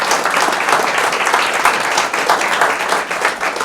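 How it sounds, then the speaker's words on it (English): An audience at a Willoughby State of the City address applauds steadily for several seconds, a dense even wash of clapping. "if I could have a round of applause for our Service Director"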